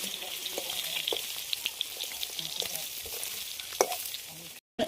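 Eggs frying in oil while being stirred with a spatula in a pan: a steady bright sizzle with occasional scraping and stirring knocks, close by, with a brief dropout near the end.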